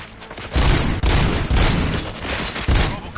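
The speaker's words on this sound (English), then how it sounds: "Gunshots? What's going on?" Loud, sustained gunfire rattles in RoboCop Rogue City, dense overlapping bursts of shots forming a continuous fusillade with brief dips in intensity, close and dominant.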